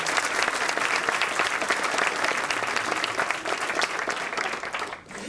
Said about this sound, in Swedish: Ska inte barnen få en jättestor applåd till?